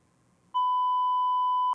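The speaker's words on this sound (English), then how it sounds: "so we bleep that out" A censor bleep covers a spoken word in a conversation: one loud, pure steady tone lasting a little over a second, cutting in sharply after a quiet moment and stopping abruptly.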